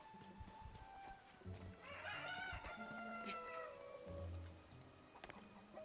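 Rooster crowing at night in the video game Zelda Tears of the Kingdom, one drawn-out cock-a-doodle-doo over soft game ambience with light clucking and low background tones.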